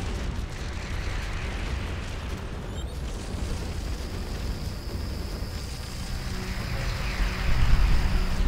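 Missiles exploding against a frigate in the space game Starcom Nexus, a continuous rumbling barrage of dull booms and crackling blasts that stays loud and dense throughout, swelling toward the end.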